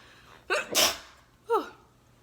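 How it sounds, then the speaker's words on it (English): A single sharp sneeze with a quick inhaled buildup, followed by a short high squeaky vocal sound, in an otherwise quiet room. "I always end up sneezing every single time."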